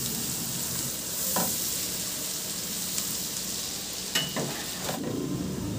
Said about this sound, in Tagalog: Tunawin lang natin yan at igisa ko na yung bawang hanggang sa